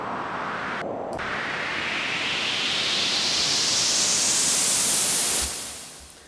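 A white noise riser with heavy reverb for house, garage and tech house tracks: loud broadband hiss that sweeps steadily brighter and higher over about five seconds, then cuts away into a short fading reverb tail.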